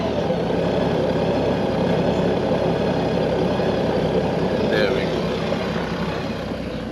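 A Honda Goldwing motorcycle engine runs at a steady idle after an oil change, a close, even mechanical hum and whir holding constant throughout with a faint brief high whine midway.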